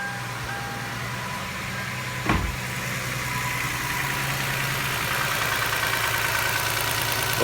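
A 1999 Toyota Camry Solara 3.0L V6 idles steadily nearby, with a misfire diagnosed on it, its hum broken by one brief sharp click or thump partway through.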